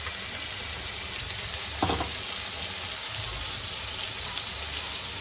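Mutton curry with tomatoes and green chilies sizzles steadily as it is sautéed in a cooking pot, a continuous close frying hiss with a brief stirring scrape partway through.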